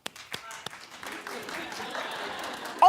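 An audience claps in a few scattered, separate claps at first, then builds into a soft, steady patter of applause, fairly quiet, with a sharp louder burst at the very end.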